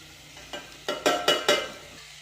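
Vegetables sautéing in a pan for a home-cooked curry, with soft sizzling and about five distinct stirring scrapes spaced roughly a quarter-second apart, close and moderately loud.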